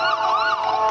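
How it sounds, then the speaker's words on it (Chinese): An ambulance siren wails in a continuous rising and falling tone at a protest scene in the West Bank, fairly loud and alone for a brief moment. "火速被送上救护车送医。"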